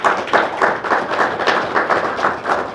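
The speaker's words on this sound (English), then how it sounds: "Let's give them a round of applause." A large audience at a gender and climate change event breaks into a round of applause: steady, dense clapping that pulses slightly, with no talking over it.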